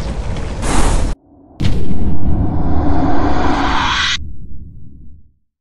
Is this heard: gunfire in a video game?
yes